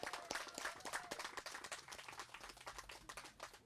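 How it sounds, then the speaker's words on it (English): Scattered clapping from a small crowd, a steady patter of hands that holds for a few seconds at moderate volume. "Let's give them a round of applause."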